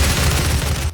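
Rapid, dense gunfire from the demon-fighting shooter Doom, a loud sustained burst of shots with heavy low-end booms running almost the full second before cutting off abruptly.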